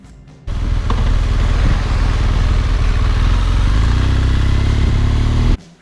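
A motorcycle engine runs close and loud for about five seconds, a steady low rumbling drone that rises slightly in pitch, starting and stopping abruptly, with no voices.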